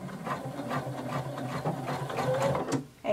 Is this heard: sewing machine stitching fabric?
yes